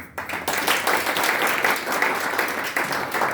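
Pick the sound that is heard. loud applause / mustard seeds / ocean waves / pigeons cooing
loud applause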